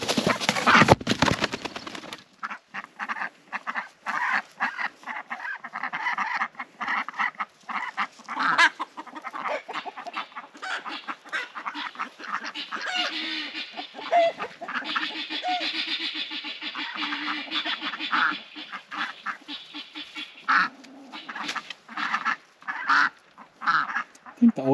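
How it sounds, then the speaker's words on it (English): Ducks in a pen, old birds meeting newcomers, honking and quacking in a dense, irregular chorus close by, loud bursts overlapping throughout with a few louder squawks at the start. "Ducks meet new ducks."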